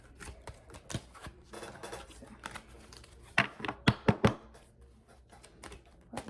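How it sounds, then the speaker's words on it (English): Close, crisp card-shuffling and riffling, with a few soft flicks early on and a quick run of sharper snaps near the end; no talking. "I'm gonna give it one more shuffle"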